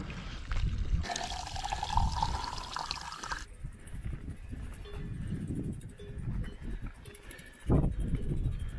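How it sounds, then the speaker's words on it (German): Water pours from a bottle during a mountain bike tour from Scuol to Val Müstair, giving a short gurgle with a rising pitch as the stream runs, followed by quieter handling noises and a brief knock near the end. "da trinkt man noch ein bisschen was ab"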